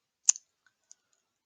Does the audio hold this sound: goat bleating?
no